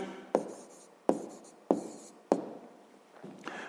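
Pen strokes on paper while a sixth-grade maths exercise is written out by hand: four sharp, evenly spaced taps with scratchy trails, close and quiet, with a softer rustle at the end.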